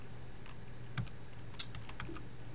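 Keys tapped on a computer keyboard to enter a command on a Linux Mint system, a short burst of a handful of quiet, close clicks with no voice.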